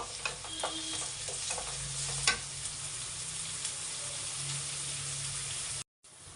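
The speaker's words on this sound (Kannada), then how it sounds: "ಇದೊಂದು ಸ್ವಲ್ಪ ಫ್ರೈ ಆಗಬೇಕು" Curry leaves, garlic and onion for brinjal gojju fry in a pan with a low, steady sizzle and a few light stirring clicks, fairly quiet and close, ending in a brief silent gap.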